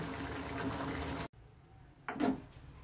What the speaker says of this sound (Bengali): এবার এটাকে আমি সার্ভিং বোলে নামিয়ে ফেলছি